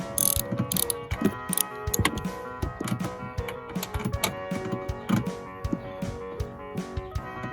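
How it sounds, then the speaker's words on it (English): A ratchet with a 10mm socket clicks in quick, uneven runs while loosening a nut on a 2009 Nissan Versa during a rear light bulb replacement, close and fairly quiet with light metallic knocks and no talking. "So I'm gonna use a 10mm socket."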